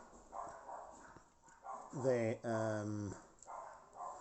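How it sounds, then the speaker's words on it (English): Neighbours' dogs bark in the distance in a short burst of a few loud barks mid-clip, with quieter ambient noise before and after. "neighbours' dogs are all started barking at the same time"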